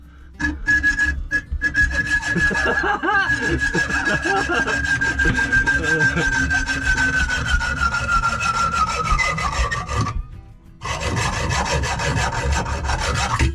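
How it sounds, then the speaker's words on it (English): Steady back-and-forth sawing through two long bolts in a boat's chain locker, with a continuous rasping, metallic whine for about ten seconds, a short pause, then more sawing close to the mic. "Just cutting off these 2 long bolts"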